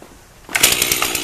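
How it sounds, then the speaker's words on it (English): A chainsaw roars into life abruptly after a quiet moment, then runs loudly and close with a harsh buzzing, slightly pulsing drone, used while butchering beef cattle. "This here chainsaw out."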